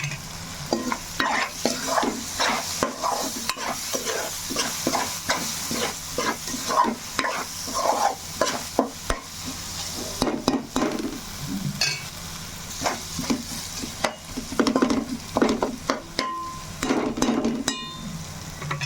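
Green chillies and spices fry in a pan with a steady sizzle, while a utensil stirs and scrapes repeatedly throughout, sometimes clinking against the pan.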